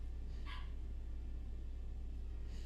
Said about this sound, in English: feed my puppy because I hear her yelling